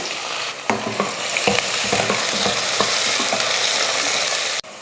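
Sliced onions with cardamom, cinnamon and cloves frying in hot oil for mutton biryani, a loud steady sizzle broken by sharp scraping strokes of a stirring spoon against the pan.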